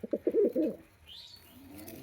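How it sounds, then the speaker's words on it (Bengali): A pet pigeon in full fitness, giving a close, throaty burst of several quick coos, followed by faint chirps and a quieter stretch. "ফুল ফার্মে আছে পায়রাটা।"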